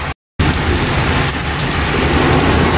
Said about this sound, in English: This is one hell of a storm we're getting here.